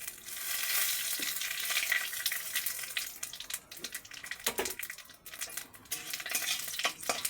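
Whole cumin seeds temper in hot oil, a soft close sizzle and crackle that fluctuates, broken by a few utensil clinks and stirring scrapes, fairly quiet with no speech.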